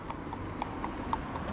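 A pony's hooves clip-clop in a steady, light rhythm of single strikes at a walking pace, faint and somewhat distant, with no talking.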